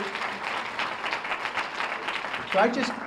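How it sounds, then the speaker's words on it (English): Audience at a community health partnership anniversary event gives a steady round of moderate applause, with a voice rising over the clapping near the end. "One more round of applause for Olivia."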